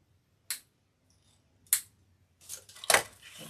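Wire on a horse-shaped wreath attachment is snipped in sharp, isolated cuts: two crisp clicks a second or so apart, then a rustle of handling and a final louder snip, close and otherwise quiet.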